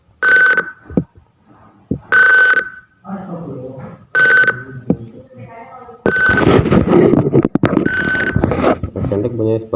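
A height-measuring device beeps its buzzer tone for the short category, sharp electronic tones sounding in repeated bursts with pauses between them, near and loud, while a person talks in between and over the later beeps.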